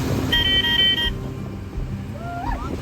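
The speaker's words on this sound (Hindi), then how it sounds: "ये देखो बच्चों, डंप ट्रक।" A dump truck of the kind used on construction sites to haul gravel, soil and concrete gives a short steady horn blast, then its low engine rumble carries on beneath a faint rising whine.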